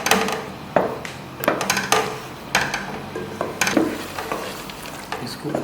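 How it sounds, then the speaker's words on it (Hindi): Flour is stirred and fried into nihari masala for beef nihari, with a loud, close sizzle broken by spoon scrapes and knocks against the pot at an uneven rhythm. "इसको अच्छी तरह भूनेंगे"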